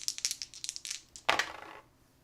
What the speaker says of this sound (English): We're only rolling 2 dice.